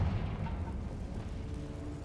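A Confringo blasting spell in Hogwarts Legacy sets off a deep, rumbling explosion that stays loud and low for the whole two seconds, with no voice over it.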